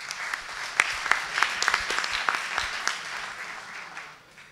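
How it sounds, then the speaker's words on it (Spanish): Applause from the audience at a fintech pitch competition in Buenos Aires, light and moderately distant, with scattered sharp claps standing out over a soft background of clapping for a few seconds. "Un aplauso."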